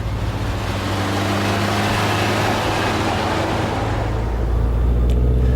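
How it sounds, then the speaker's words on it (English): A 1986 Range Rover Turbo D diesel engine strains up a steep main road in second gear with the pedal floored, giving a loud, steady droning hum that barely changes pitch. "I've changed into second, I've got my foot flat on the floor, and we're not going anywhere"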